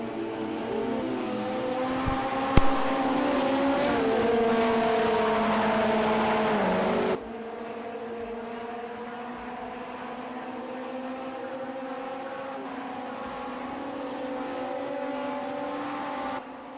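Race cars in a Project Cars 2 sportscar race at Daytona, prototype engines droning loudly with steady high revs and a sharp spike near the start, dropping to a quieter sustained whine as the pack heads into turn one.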